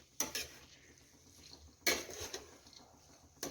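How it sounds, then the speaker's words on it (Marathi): A spoon stirs chickpea greens mixed with plenty of crushed peanuts in a pan, with three sharp scraping clinks against the metal and quiet rustling in between. "भरपूर शेंगदाण्याचं कूट घातलेली हरभऱ्याची भाजी आता फिरवून घेऊया"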